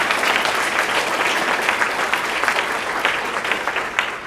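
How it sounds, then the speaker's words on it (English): A large audience applauds at a university faculty and staff address, a dense, steady wash of many hands clapping close and loud for the whole stretch without a break. "I think that deserves a round of applause"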